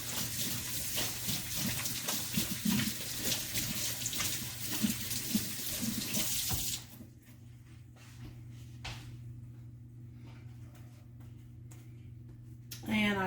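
Tap water runs and splashes onto hands at a kitchen sink in a steady, fairly close wash, then the flow cuts off partway through, leaving quieter room sounds and faint handling noises.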